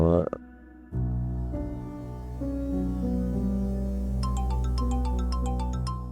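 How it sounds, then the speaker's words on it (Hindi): A mobile phone ringtone plays steadily for several seconds, starting with a jolt of sound, then bright repeating chime notes enter near the end over a warm sustained tone. "आपका फोन मुसलसल बज रहा है।"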